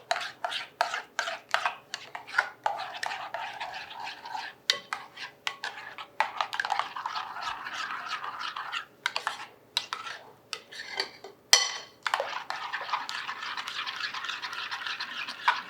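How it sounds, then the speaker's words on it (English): Almond milk and cooking oil being mixed into eggless blueberry muffin ingredients, with steady rhythmic scraping and whisking strokes against a bowl, close and continuous with short pauses and a sharp clink near the end. "And then we'll mix those ingredients together."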